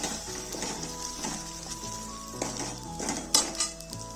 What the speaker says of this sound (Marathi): कांदा आपला परतलेला आहे त्यामध्ये किसलेले खोबरे टाकू लालसर होईपर्यंत परतून घेऊ